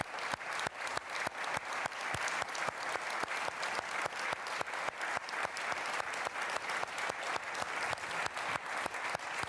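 Sustained audience applause fills a conference hall at the Munich Security Conference, dense, even clapping from a large crowd that continues steadily throughout without voices.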